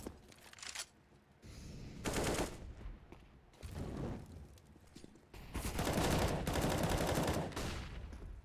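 Gunfire rings out in an ESEA Premier esports shooter match: faint, distant bursts of rapid automatic fire come in several separate volleys with quieter gaps between them.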